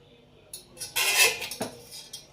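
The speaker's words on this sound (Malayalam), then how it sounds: "നമുക്കിത് കുക്കറിലോട്ട് വെച്ച് കൊടുക്കാവേ." A metal vessel set down into a pressure cooker while cooking junnu, giving a few close clinks and a brighter metallic clatter around the middle of a quiet kitchen moment, with no talk.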